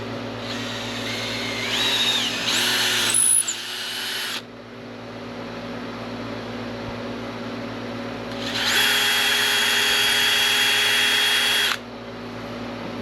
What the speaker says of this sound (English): Now we need to drill this out with a 3/8 drill bit.